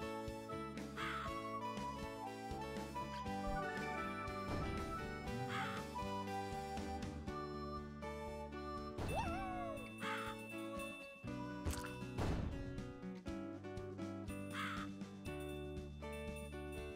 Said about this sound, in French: Merde, il y a un corbeau.